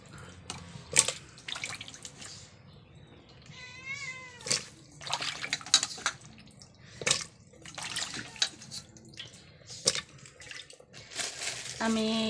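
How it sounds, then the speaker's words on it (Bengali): Potatoes dropped one by one into hot water in a pressure cooker, giving a series of close, soft splashing plops at uneven intervals, with a brief cat meow partway through. "আমি এই আলুগুলো এক এক করে সব দিয়ে দেবো প্রেসারের ভিতরে।"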